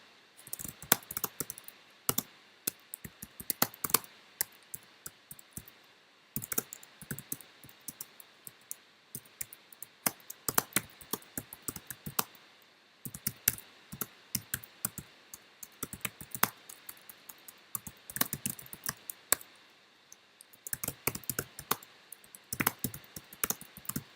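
Ad text being typed on a computer keyboard: long runs of quick, close key clatter broken by brief pauses, with occasional sharper clicks, and no voices over it.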